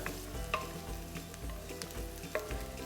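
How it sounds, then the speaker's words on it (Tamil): Finely chopped onion, along with nuts, sautéing in oil for a Kaima chilli idli: a steady soft sizzle with occasional louder stirring scrapes and clinks, close and continuous, no voices. "அந்த ஆனியன் வந்து கொஞ்சம் லைட்டாக சாட்டே ஆனோன்னே, கொஞ்சம் வதங்கினோன்னே"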